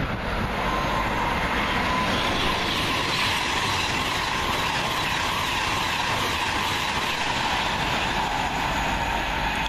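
A train passes at Wolverton in a continuous loud rush of wheels and rail noise, steady throughout with a faint high squeal riding over the rumble.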